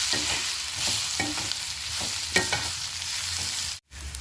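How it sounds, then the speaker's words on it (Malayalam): Masala powders, including Kashmiri chilli powder, sautéing in a pan for mattar paneer masala, with a steady close sizzle and a few scraping stirs, ending in a brief cut. "എല്ലാം കൂടിയിട്ട് നമുക്ക് നല്ലതുപോലെ വഴറ്റിയെടുക്കാം."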